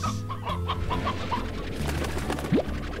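A flock of chickens in the game Slime Rancher clucking repeatedly over low droning game ambience, with a short rising chirp-like blip near the end, moderately loud and close, no talk.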